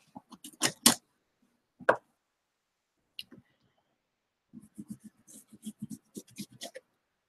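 A pen scratches marks onto paper at close range, short scritching strokes in brief bursts separated by silence, with a longer run of quick scribbles near the end.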